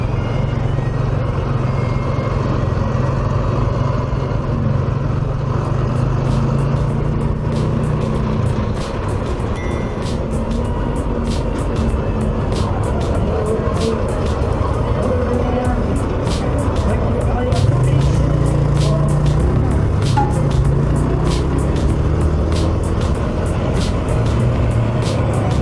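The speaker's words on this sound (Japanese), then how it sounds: "渋滞がひどくなったとは聞いてたけど、本当にひどいな、これ。" Heavy, congested road traffic heard from a GN125 motorcycle near Dublin Bay, a constant low rumble of cars, trucks and buses with occasional reversing beeps and brake hiss, loud and close throughout.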